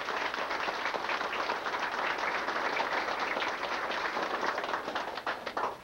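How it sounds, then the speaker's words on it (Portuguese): A crowd at a family descendants' gathering breaks into strong, sustained applause, dense overlapping claps holding at a loud, even level throughout and thinning slightly near the end, with no speech. "Uma salva de palmas bem forte para eles."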